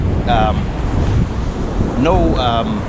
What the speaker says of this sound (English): No land, and you just get like real waves.